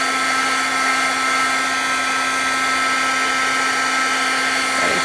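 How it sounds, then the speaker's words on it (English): A heat gun runs without pause, giving a loud, steady electric whine over a constant blowing hiss as it heats paper held close to the fingers. "turn down your volume just a little bit if it bothers you to have the heat gun going"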